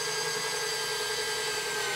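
A power drill runs continuously in reverse, backing a screw out of a wooden floor, giving a steady, loud, close whirring motor whine with no breaks or talking.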